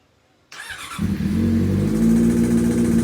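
A Yamaha R6 sport motorcycle with an abnormal engine noise fires up after near silence, catching at once and rising into a loud, steady running drone.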